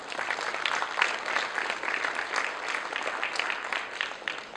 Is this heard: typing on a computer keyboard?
no